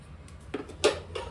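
A spoon scrapes and clinks inside a pot of cooked toor dal and wheat being stirred, a few short close knocks over a low background hum.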